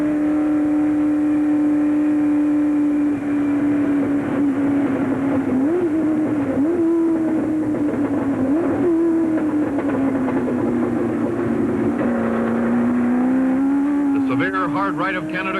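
Vintage 1966 sports racing cars screaming at high speed around Road America's Canada corner and uphill under the bridge, a loud sustained engine whine rising and falling as the cars power through, with a voice narrating over it.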